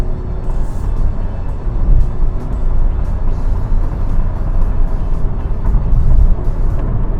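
A brand-new Honda City hatchback on a test drive, heard from inside the cabin as a continuous road and engine drone with tire rumble and occasional small knocks, and no one talking.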